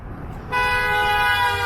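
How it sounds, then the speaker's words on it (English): A single sustained car horn honk sounds out after a short pause, steady and fairly loud, held for over a second. "somebody just honked at you guys saying hi."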